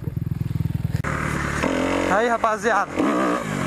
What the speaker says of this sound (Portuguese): Agora eu vou dar uma volta nela lá. Na moto lá de Detroit.